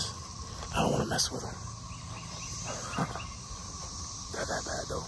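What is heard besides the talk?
cicadas buzzing in trees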